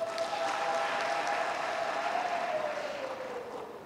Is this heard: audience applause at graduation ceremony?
yes